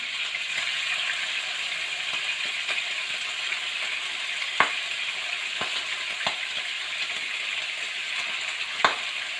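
Beef frying in hot oil gives a steady broad sizzle throughout, broken by a few sharp pops and splatters, with no voices.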